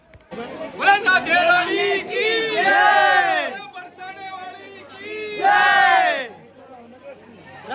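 Crowds of devotees at a Holi celebration in Barsana raise loud, near chanting voices in repeated bursts, a rising cheering babble that surges, falls back and surges again.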